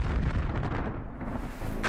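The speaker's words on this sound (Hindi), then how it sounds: "इजराइल जब अमेरिका से मिले बंकर बस्टर बम मारता है तो क्या होता है?" A heavy bunker buster bomb detonation rumbles as a loud, low, sustained boom with rolling roar, close and alone, with no voices.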